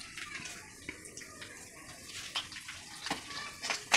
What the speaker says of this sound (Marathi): डाळी छान तळल्या जात आहेत।